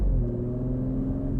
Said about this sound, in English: Talk about a wonderful, burbly, deep-toned V6.